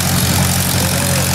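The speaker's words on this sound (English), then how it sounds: "this thing appears to be powered by a legitimate, like, tractor motor" A bumper car ride at Knoebels amusement park, powered by a tractor motor, gives off a steady, loud, low engine rumble that stays constant and close for a brief moment.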